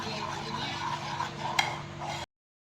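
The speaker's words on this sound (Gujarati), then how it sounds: "આ બધું હજી મિક્સ કરીશું, બરાબર હલાવીશું." Spoon stirring a thin batter of gram flour (besan) and water for khaman dhokla, a steady close swishing and scraping in a bowl that runs continuously and stops abruptly.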